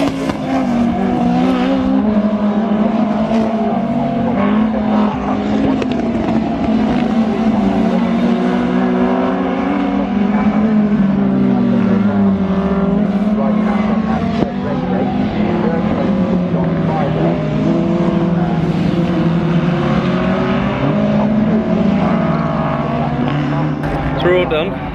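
Historic racing cars at the Donington Historic 2017 meeting, a loud continuous engine drone with a downward-sweeping pass around the middle, while a commentator talks over it throughout.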